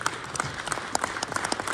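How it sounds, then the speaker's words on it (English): A crowd claps in steady applause, dense and fairly distant, filling the whole short moment. "Can we give Reway a round of applause today?"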